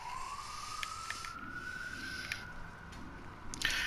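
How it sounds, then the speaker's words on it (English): A single emergency vehicle siren wails downtown, a faint, distant tone rising slowly over a few seconds amid quiet city background. "I live downtown, so you can hear a lot of sirens sometimes"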